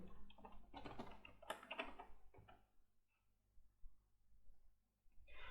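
Soft keystrokes on a computer keyboard as an email address and password are entered during a pgAdmin4 setup on Ubuntu 20.04, arriving in irregular bursts that are dense early, thin out in the middle and pick up again at the end.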